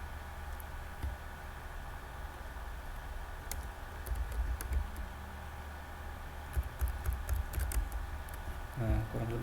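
Password keys tapped on a computer keyboard while configuring a VHD server, scattered light clicks over a steady background hiss, with a few quicker bursts of keystrokes near the end.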